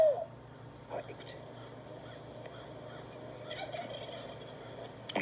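Sharp, brief gobbling bursts from a hunter's turkey call sound in a quiet outdoor setting, with a soft hiss and faint background sound between the calls.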